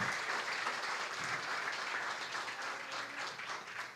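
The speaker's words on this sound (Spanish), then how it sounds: "Den un aplauso grande al Dios de los cielos" A congregation at a Spanish-language church service applauds, continuous crowd clapping heard fairly faint and at a distance.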